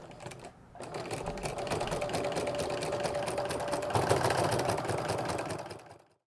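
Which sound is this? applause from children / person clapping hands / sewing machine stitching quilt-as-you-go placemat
sewing machine stitching quilt-as-you-go placemat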